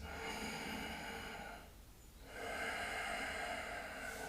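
Slow breathing through the nose during a standing yoga pose: a long, steady airflow hiss that fades briefly in the middle, then swells again for a second smooth breath, close and soft with no talking.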